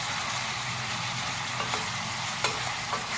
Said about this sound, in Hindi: चिकन को हम गार्लिक के साथ मीडियम फ्लेम पर फ्राई कर रहे हैं।